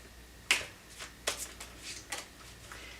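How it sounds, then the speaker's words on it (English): Tarot cards being shuffled by hand, a few sharp riffling snaps and flutters in quick irregular bursts, close and crisp. "These cards, every time I shuffle them, they just want to fly."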